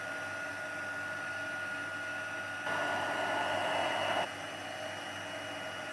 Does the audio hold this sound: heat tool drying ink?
yes